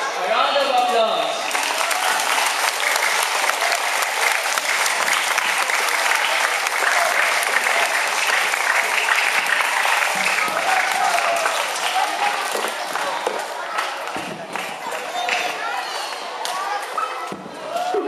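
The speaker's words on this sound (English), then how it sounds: "A round of applause." Audience applause at a school Nutrition Month celebration, a dense, steady patter of many hands clapping that fills the room for the whole stretch, easing slightly near the end, with faint voices mixed in.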